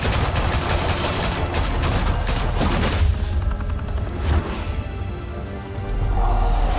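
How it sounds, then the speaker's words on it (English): Rapid gunfire from Batman: The Telltale Series, with dense bursts of automatic shots and sharp impacts that rattle on for about three seconds, then thin out into a few scattered cracks and hits. "Open fire!"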